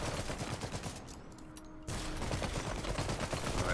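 Bursts of gunfire and grenade blasts from the Iron Harvest strategy game, rattling on in dense volleys, briefly dropping to a quieter lull before the shooting surges back louder and continues without speech.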